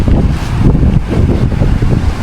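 Strong gusty wind buffets the microphone at a windy fishing spot with waves, in loud, continuous rushes, with a low roar throughout and no voices.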